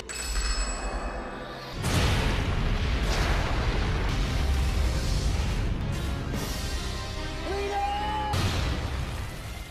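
Loud, sustained rumbling explosion with a sharp onset, roaring broadband and continuing for several seconds, with brief tonal chirps in the mix, from the 2004 film Garuda.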